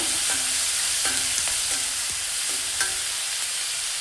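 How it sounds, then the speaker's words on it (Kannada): Sliced onion is stirred into chana dal and urad dal frying in oil, with rhythmic spatula scrapes about once a second over a constant close sizzle. "ಈ ಟೈಮಲ್ಲಿ ಈರುಳ್ಳಿ ಸೇರಿಸೋಣ. ಹಾಗೆ ಚೆನ್ನಾಗಿ ಮಿಕ್ಸ್ ಮಾಡೋಣ."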